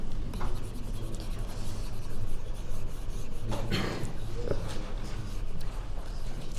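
Writing being rubbed off a board in a maths lecture, a continuous scraping, brushing rub with a few stronger strokes, heard close and fairly loud with no talking.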